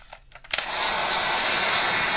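A heat gun blows a steady, broad hiss as it warms the legs of a plastic Hordak action figure, starting after a few brief clicks and continuing evenly at close range.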